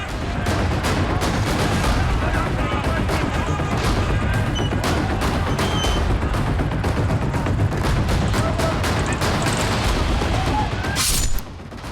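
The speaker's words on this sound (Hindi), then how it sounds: "दो गुटों के बीच घंटों तक चली गोलीबारी" Heavy, continuous gunfire during clashes between two groups in Kurram, Khyber Pakhtunkhwa: dense, rapid volleys of shots crack loudly without pause for the whole stretch, with no voices.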